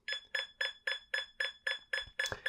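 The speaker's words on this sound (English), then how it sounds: "it will start beeping and give you a number" A rapid series of nine electronic beeps at an even rhythm from a radio transmitter's model locator, bright and close, with a faint click near the end.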